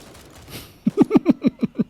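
A burst of gunfire in the military shooter Gray Zone Warfare, seven loud rapid shots in an even rhythm after a quieter lead-in.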